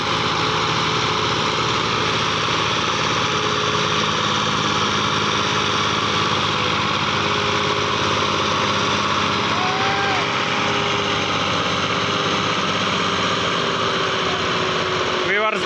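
A tractor engine drones steadily and loudly at close range in a sandy desert area, an unbroken mechanical hum with a faint rising whine near the end and no clear pauses.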